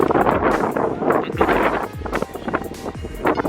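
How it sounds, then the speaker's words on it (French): Strong wind buffets and roars steadily across the microphone on a cycling trip in Croatia, with rumbling gusts and faint background noise throughout. "C'est ouf le vent."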